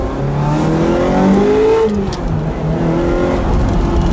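A Ferrari 355 Berlinetta V8 engine revs up steadily from inside the cabin, its pitch climbing and dipping through gear changes, loud and continuous with no talking.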